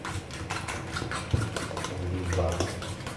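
Seasoned eggs whisked in a bowl, a quick rapid patter of utensil clicks against the bowl, close, with a person talking over it.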